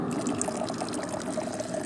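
Water drains steadily under gravity in a roadside demonstration, a continuous close splashing and trickling rush with no talk.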